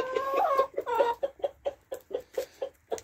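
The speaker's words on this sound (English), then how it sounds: "Cockerel's busy shouting them all to come and find the best bits" A cockerel calling hens to food with repeated clucking calls, a few drawn-out notes followed by a steady run of short, rhythmic clucks, close by.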